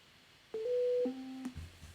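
A few clean electronic musical tones from the coding game Swan's Quest play in sequence, a held higher note dropping to a lower one, then a short low buzz, fairly quiet.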